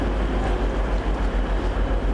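Train rolls into a Liverpool station on the evening service to Chelsea Street, a steady loud rumble with a rhythmic low thumping of wheels, no voices.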